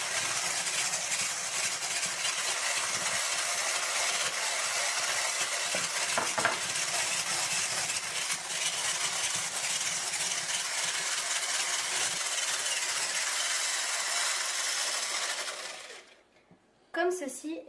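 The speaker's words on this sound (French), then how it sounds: "On va commencer à monter les blancs en neige. Lorsqu'ils deviennent blancs et mousseux, on continue de mélanger en versant le sucre petit à petit." Egg whites are whisked into a glossy meringue while sugar is poured in gradually, a continuous close whirring churn that runs steadily for most of the clip before cutting off near the end.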